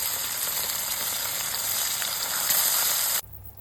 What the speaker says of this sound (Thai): และเราก็จะนำปลาเค็มไปทอด